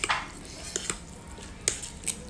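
Spicy Samyang noodles stirred in a pot, with a few soft clinks and scrapes of a utensil against the metal, close and sparse over a faint background.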